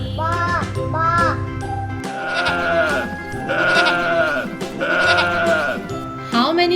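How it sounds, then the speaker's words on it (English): Sheep bleat loudly and repeatedly, wavering cries following one another close up with barely a pause. "What is the sound of sheep?"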